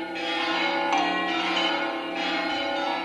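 Bells of Tortosa cathedral ring out in sustained, overlapping peals, a rich shimmering wash of tones with a fresh stroke near the middle, heard clearly with no one speaking.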